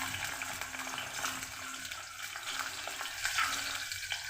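Onions going into oil already heated in a pan for a home-cooked chicken dish, giving a steady, close, broadband sizzle throughout with soft stirring noises and no talk.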